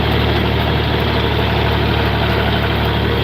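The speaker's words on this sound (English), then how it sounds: "Yeah, John Deere 4020, one of the most common tractors in the world." A John Deere 4020 tractor engine idles steadily at close range, a low, even rumble with a constant throbbing hum and no change in pace throughout.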